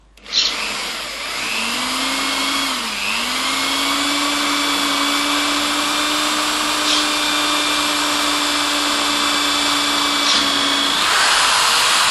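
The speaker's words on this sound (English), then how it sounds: "Drill a 1/4 inch hole." A power drill whirs loudly and steadily for about ten seconds, its pitch dipping briefly as it bites into hardwood boring a 1/4 inch hole, close by.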